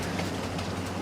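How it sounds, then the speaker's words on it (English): A train rolls past in Farming Simulator 22, a steady, loud rumble of rail cars with faint clickety-clack, continuous and close for the whole moment, no talking. "Thank God I didn't step out in front of that train."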